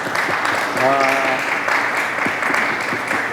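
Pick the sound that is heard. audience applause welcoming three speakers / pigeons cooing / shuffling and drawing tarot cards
audience applause welcoming three speakers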